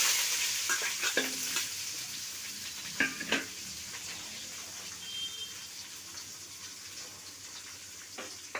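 Onions and curry leaves fry in a pan with a steady low sizzle, broken by a few short stirring scrapes and clinks near the start and middle. No one speaks.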